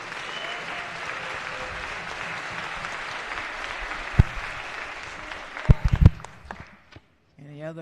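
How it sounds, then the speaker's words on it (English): A room of people in a legislative house floor session applauds steadily, then a few louder thumps and knocks stand out before the clapping fades to near silence. "A round of applause for my family."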